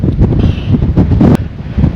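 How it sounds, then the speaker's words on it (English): Gusty winter wind at Ladybower Reservoir buffets the microphone in loud, rumbling bursts, roaring and easing repeatedly with no voices. "I'm going to try and keep this wind behind me. It is absolutely horrendous, howling"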